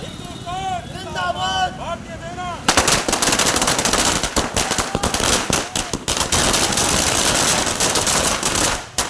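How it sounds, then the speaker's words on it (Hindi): A speaking voice gives way to a loud, rapid crackle of firecrackers set off at a celebration, bursting in dense irregular volleys, continuing for several seconds. "हिंदू युवा वाहिनी के कार्यकर्ताओं ने आतिशबाजी की"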